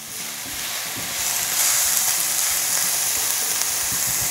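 Onion sautéing in a pan for a Filipino dish of string beans and squash in coconut milk: a steady close hiss of frying that swells louder midway and holds, with no voices.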